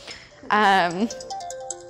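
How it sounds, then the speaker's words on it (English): A mobile phone ringtone plays a short bright melodic chime near the listener, followed by softer repeated tones. "ooh, that's my phone"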